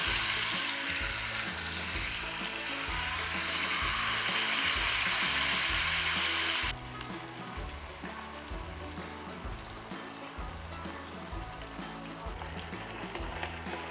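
Rupchand pomfret fish fry in a pan, a loud close sizzle that suddenly drops to a quieter, steadier bubbling crackle halfway through, with occasional small pops and no voices.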